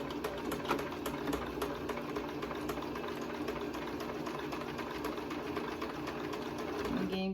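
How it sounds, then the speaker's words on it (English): A sewing machine runs a reverse stitch on a fabric face mask, a steady close whir with fast, even needle clatter that continues unbroken for about seven seconds. "Start with the reverse stitch."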